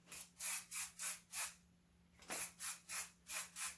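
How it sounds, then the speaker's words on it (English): A spray wax made from Japanese wax trees is misted onto hair. Close, quick hissing pump sprays come in two rhythmic bursts of about five or six, separated by a short pause, with no talking. "I'll mist it onto the hair"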